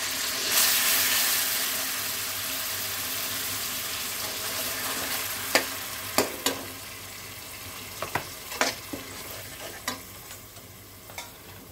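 Cumin with a tomato, ginger and green chilli paste frying in a pan, a steady low sizzle with several sharp spoon clinks and scrapes of stirring, close and fairly quiet, with no talking.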